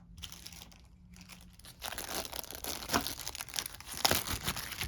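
A plastic bag crinkles close up while a board game is unboxed, soft rustles at first and then dense, continuous crackling and crumpling.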